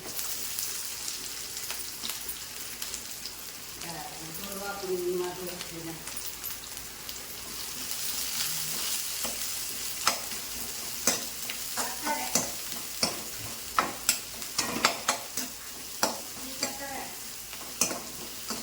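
Mustard seeds, urad dal, curry leaves and onion crackle and sizzle in hot oil, with sharp pops growing more frequent toward the end and a brief murmur of voice early on.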